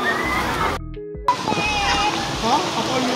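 Overflowing water sloshes and gurgles continuously, fairly close, with people talking over it and a brief dropout in the middle.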